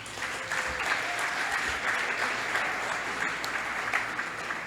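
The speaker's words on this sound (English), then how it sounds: "Let's hear a round of applause for Miriam's Kitchen again." A crowd applauds at a charity gala for Miriam's Kitchen, steady sustained clapping from many hands filling the room at an even level throughout, without talk.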